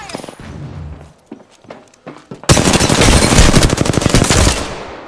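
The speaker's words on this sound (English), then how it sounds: "They're shooting at me." Sustained, loud rapid gunfire from enemies in the shooter game Wraith, erupting abruptly after a quieter stretch of sparse taps and footsteps and continuing densely to the end.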